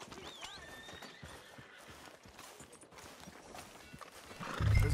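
A horse in the video game Red Dead Redemption 2 gives a clear whinny near the start, followed by steady clip-clopping hooves and a heavy thump at the end.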